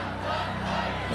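Protest crowd gathered in a Minneapolis street, a steady dense murmur of many voices with low rumbling underneath, continuous and fairly loud with no distinct shouts standing out.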